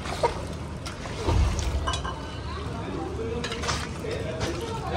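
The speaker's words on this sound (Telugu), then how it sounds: "ఒకసారి కలిపేసుకుందాం. మొక్క ముగ్గే వరకు అయితే వాటర్ పోసుకున్నాం నేను." Chicken curry being stirred in a pot just after water is added, a steady wet scraping and sloshing with a heavier bump near the start, with a voice speaking at times.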